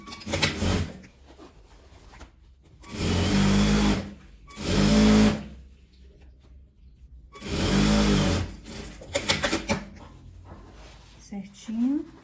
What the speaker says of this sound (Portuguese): Vou costurar. Do outro lado também.